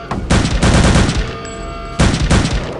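Gunfire from an enemy sniper in Return to Castle Wolfenstein: loud, close cracks in two rapid clusters with a short ringing gap between them, no talking.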